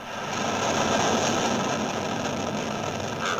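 A deep, continuous roar of a rocket engine starting at launch, steady and loud with broad rumbling texture, no voices.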